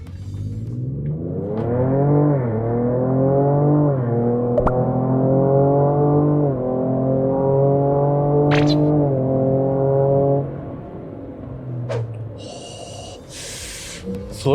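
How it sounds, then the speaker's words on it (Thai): Engine of a 2022 Ford Ranger Raptor pickup in sport mode revving hard through a 0-100 km/h launch, loud, rising pitch climbing through several gear shifts, then easing off, with brief voices near the end. "อัตราเร่ง0 ถึง 100 กิโลเมตรต่อชั่วโมงโหมดสปอร์ต"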